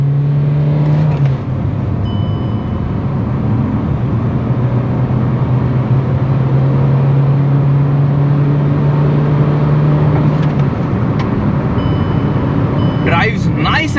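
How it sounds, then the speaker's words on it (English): A Kia Sonet diesel manual accelerates hard and loudly in the cabin, its engine drone rising steadily, then dropping at a gear change and climbing again, while someone talks over it. "let's check out the acceleration of this Kia Sonet diesel manual"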